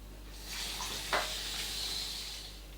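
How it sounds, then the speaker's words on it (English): Tap water runs steadily into a sink while hands are washed in a kitchen during pork marinade prep, a soft continuous splashing hiss with one brief brighter splash near the middle, no talking. "I'll just wash my hands."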